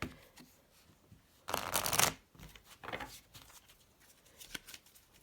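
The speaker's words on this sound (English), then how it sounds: "Let me shuffle them like this once." Tarot cards shuffled by hand in one loud riffling burst, followed by softer rustles and taps of the deck being handled, close and with no voices.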